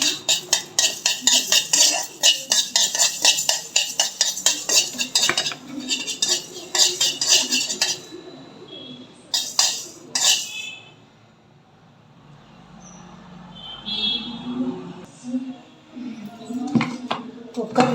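Half a spoon of fenugreek seeds roasts in a pan for a tamarind kuzhambu with dried turkey berries, with a spoon clinking and scraping in a quick, steady rhythm, then a quieter stretch before the stirring picks up again.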